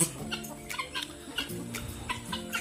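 Ayam Ketawa chickens clucking in a coop, with several birds giving repeated short clucks and chatters at close range, overlapping in an irregular rhythm.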